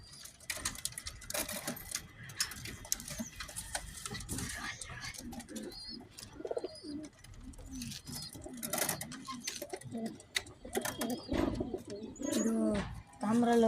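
Pigeons coo in soft, rolling calls, some near and some farther off, mixed with a few wing or scuffling sounds while people talk nearby.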